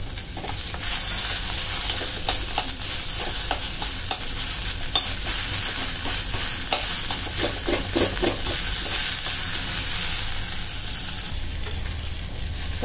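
Onions sauté in a steel pot, a continuous loud sizzle with frequent spoon scrapes and stirring clatter up close, and no talking.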